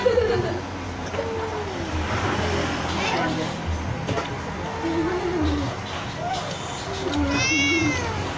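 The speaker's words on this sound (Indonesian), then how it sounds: "Ada kucing." A cat meows several times in short rising-and-falling calls, close and fairly clear, under a steady background of passing road traffic with a speaking voice.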